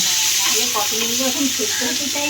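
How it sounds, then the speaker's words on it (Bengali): Pointed gourd pieces fry in oil in a pan, a loud steady sizzle overlaid with repeated scraping and clattering strokes of a spatula stirring close up. "এই দেখতে পাচ্ছেন যে পটল ভাজা করা হচ্ছে"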